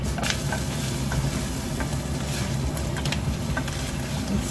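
Bacon fries in butter in a small saucepan, giving a dense, steady sizzle with crackling pops and light stirring scrapes, close and continuous, with no talk over it.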